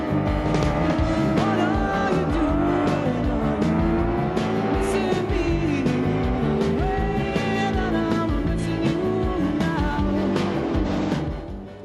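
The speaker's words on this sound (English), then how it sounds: "Long, sweeping drifts were the car's trademark." A BMW 02 series 1602 drifts hard through corners, its engine roaring steadily at high revs with tire squeal mixed in, loud and continuous throughout with no voices.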